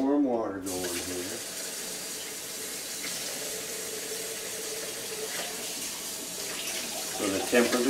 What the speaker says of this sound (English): Now we gotta get our warm water going here.